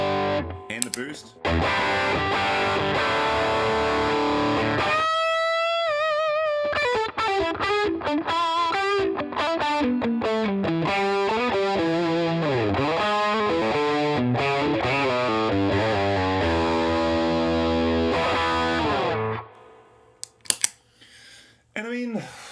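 Overdriven electric guitar through an AmpliTube '57 Fender amp model with a Tube Screamer and boost stacked, playing a loud, saturated passage of chords and fast bending lead runs for nearly twenty seconds before stopping.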